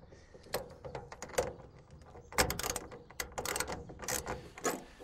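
Clamps fastened to a pickup truck bed rail while a TruXedo Deuce tonneau cover goes on, a close series of sharp metallic clicks, ratcheting and clanks in irregular bursts.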